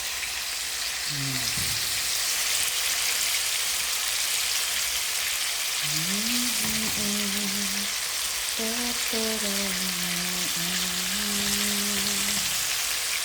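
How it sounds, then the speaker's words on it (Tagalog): Pieces of pork steak fry in hot oil with a dense, steady crackling sizzle throughout, while a voice speaks intermittently over the frying. "Piprituhin yung karne one by one."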